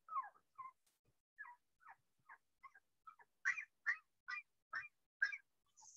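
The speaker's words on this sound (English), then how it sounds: "This is what he sounded like." A small dog screams in a series of about a dozen short, sharp, high-pitched yelps, each burst separated by brief silences, growing slightly louder toward the end, heard alone without talk.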